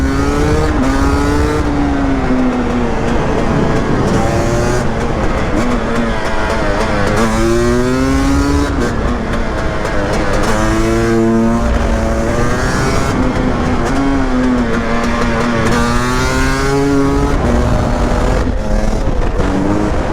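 A 300 TEI supermoto motorcycle engine revs hard on a mountain pass, its pitch climbing and falling through repeated loud acceleration runs with gear changes, close and continuous throughout.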